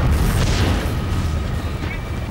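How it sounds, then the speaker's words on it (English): Two concussion grenades blast through the rear of a store during a tactical police entry, a loud close boom followed by a heavy rumbling wash of noise, with a voice speaking over it. "Two concussion grenades rip through the rear of the store."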